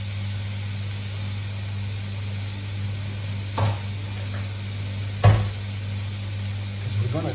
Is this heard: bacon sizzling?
yes